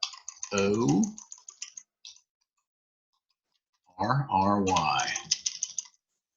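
Quick keyboard typing clicks come in two short runs with a quiet gap between, and a voice is heard alongside.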